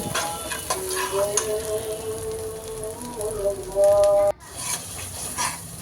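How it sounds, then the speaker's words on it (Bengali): Onions frying in mustard oil in a wok, an even sizzling hiss with a steady tonal hum over part of it and a brief louder burst near the end. "প্রথমে আমি একটা কড়াইতে সরিষার তেল দিয়ে পেঁয়াজ ভেজে নিচ্ছি"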